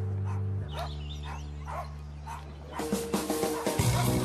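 Dogs bark in short repeated yips and woofs over a steady low hum, the barking growing busier and louder toward the end, with no talk.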